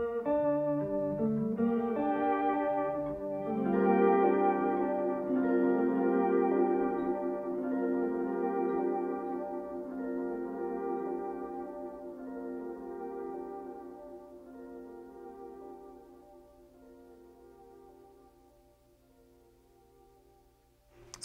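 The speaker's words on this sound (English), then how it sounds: "This channel can act as just my standard delay sound" A standard delay effect from a Soundtoys EchoBoy on a looping rig's effects send repeats a melodic phrase, with echoing notes piling up and trailing off gradually over about twenty seconds, no voices.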